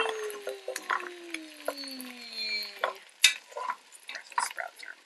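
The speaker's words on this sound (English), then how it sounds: "Sizzling." Food fries in a pan with soft sizzling, stirring clatter and scraping scattered throughout, mixed with a few brief tonal sounds, moderately close.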